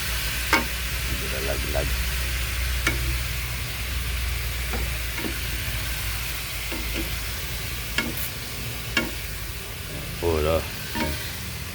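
Beef and broccoli frying in a pan that is shaken, a continuous sizzle punctuated by scattered clanks and rattles of the pan, with brief quiet speech over it.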